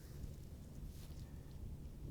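Steady, low wind on Venice Beach rumbles against the microphone in a continuous, muffled roar, with no voices or other distinct sounds.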